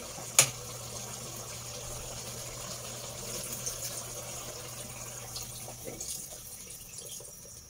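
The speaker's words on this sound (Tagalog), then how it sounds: "Lagay tayo ng tubig." Water poured into a cooking pot while braising pork, a steady quiet stream running for about six seconds after a sharp initial clunk, close and alone.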